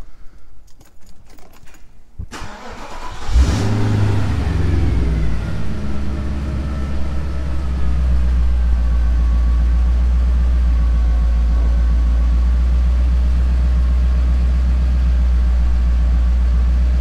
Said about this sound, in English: Maybe I'll start the car, see what happens.